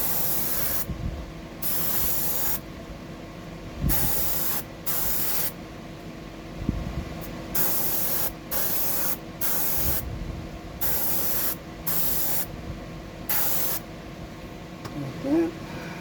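Repeated bursts of aerosol spray paint as a fresh coat goes on, each hiss lasting about a second with short pauses between, steady and close.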